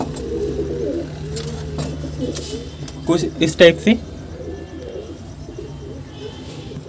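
Pigeons coo softly and repeatedly in the background while someone talks over them, with a brief louder burst of coos near the middle.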